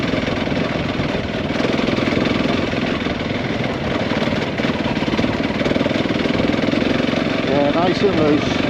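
Off-road motorbike ridden over rocks and cobbles, its engine chugging and revving steadily up close for the whole stretch while a rider briefly talks over it.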